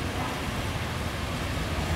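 Steady rain falls around a bus station in Governador Valadares, Brazil, producing a dense, even hiss that continues without a break. No voices can be heard.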